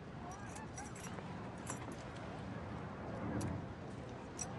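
Metal keys jangling as they are handed over, light scattered clinks and rattles under quiet room noise, close to the listener.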